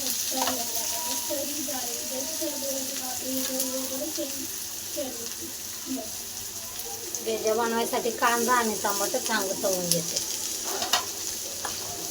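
Onions frying in a pan for a village-style goat head and brain dish: a steady sizzle and hiss throughout, heard under a person talking for most of the time.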